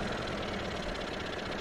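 A 2023 Indian Sport Chief motorcycle idling in neutral: a steady, even low engine rumble with a soft regular pulse, close and continuous, with no talk.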